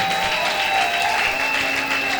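A church congregation claps and cheers in a steady, dense wash of applause throughout, loud and close with no clear voice above it.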